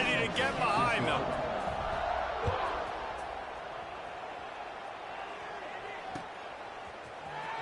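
Stadium crowd noise in the College Football 26 video game roars before a kickoff, loudest at first and then settling into a steady wash beneath a commentator's voice.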